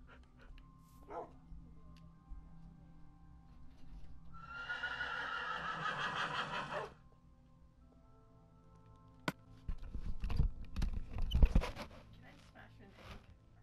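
Horse whinnying in Minecraft, a loud drawn-out neigh lasting a few seconds in the middle, with game sounds and thumps before and after it.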